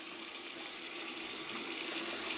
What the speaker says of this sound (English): You just turn on the water.